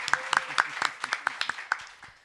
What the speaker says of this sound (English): How about one more round of applause for Magashule and Kezia?